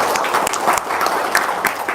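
An audience in Padang at a religious talk claps hands in a brisk burst of applause, sharp overlapping claps close and loud throughout.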